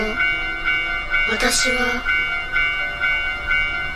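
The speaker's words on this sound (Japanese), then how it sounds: "踏切に着きました" A railroad crossing bell rings in a steady repeating clang within a horror video game, with a brief rushing swell around the middle like a train passing, while someone talks over it.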